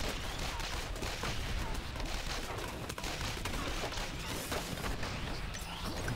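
Rapid, dense gunfire rattles nonstop in the Earn to Die Rogue video game, a fast stream of sharp shots blending into a continuous crackling barrage, fairly quiet overall.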